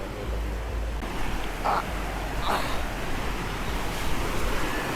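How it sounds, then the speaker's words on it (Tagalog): Steady rushing water of the Palakol River in Floridablanca, Pampanga flows continuously nearby, a broad, even wash with no voices. "Yan yung agos ng tubig."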